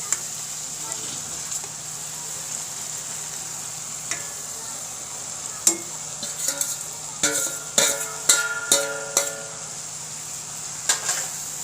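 Fried okra is stirred into a masala in a pan for a hotel-style bhindi fry. A soft sizzle runs underneath, and the utensil scrapes and clinks against the pan in irregular bursts that grow busier in the second half.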